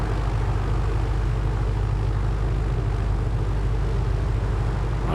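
Left piston engine of an A2A PA-60 twin running after start-up in Microsoft Flight Simulator 2024: a loud, steady low propeller drone with rapid rhythmic throbbing, constant and close, without speech.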